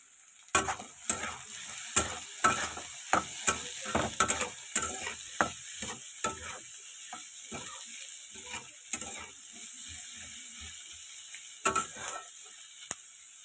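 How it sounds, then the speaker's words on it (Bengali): Onions lightly frying in a pan, with a steady sizzle broken by repeated sharp scrapes and clacks of a spatula stirring, close and fairly loud, gradually easing toward the end. "এই যে পেঁয়াজটা আমার হালকা ভাজা হয়ে গেছে,"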